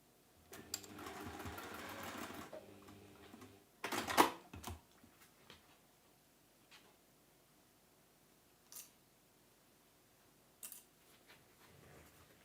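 A sewing machine stitching pinned quilt pieces gives a short, close burst of rapid whirring, then a brief second run. Scattered clicks, snips and handling noises follow in a quiet room.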